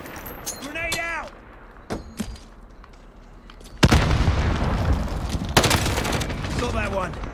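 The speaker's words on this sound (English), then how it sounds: "Grenade out!" A grenade explosion in a first-person shooter video game: a loud, close blast with rumbling debris, then a second burst later, while a voice speaks nearby before the blast.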